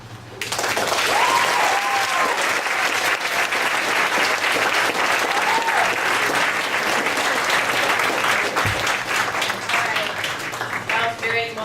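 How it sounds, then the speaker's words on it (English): An audience at a 2013 poetry night applauds a young poet after an emotional reading, loud sustained clapping that swells in quickly and holds steady, with faint voices and a few cheers underneath. "give her another round of applause"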